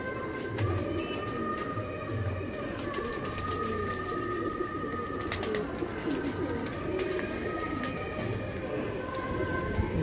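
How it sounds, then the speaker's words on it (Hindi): Soft coos of rooftop pet pigeons repeat low under steady outdoor noise, with some faint chirps and scattered clicks throughout. "ठीक है चलो देखते हैं ऊपर कबूतर दिखाते हैं आपको।"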